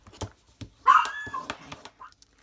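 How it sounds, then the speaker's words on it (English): A dog indoors gives a short bark and whimpering yips amid scattered clicks and light tapping from nearby crafting work, fairly close but not loud. "Maybe I can get it in before she starts barking again."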